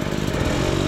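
A hard enduro dirt bike engine buzzes loud and close for about a second, with a raspy, uneven, revving drone and no talk.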